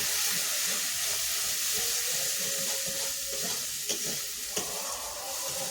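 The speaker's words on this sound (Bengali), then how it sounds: "এবার আমি দিয়ে দেবো লবণ আর হলুদ। দিয়ে ভালোভাবে কষাবো।" Rohu fish pieces sautéing in a pan with salt and turmeric for kalia, a strong steady sizzle with intermittent spatula stirs and a couple of sharp clinks.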